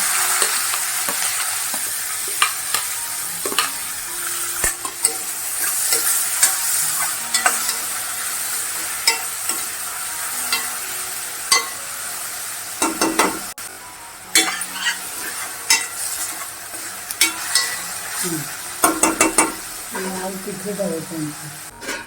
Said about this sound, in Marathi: आता कांदा घालून घ्यायचा बारीक चिरलेला